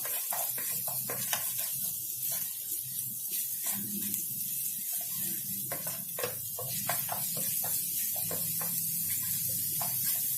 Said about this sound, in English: To this olive oil, we're first going to add our ginger and garlic grated. Give this a good stir.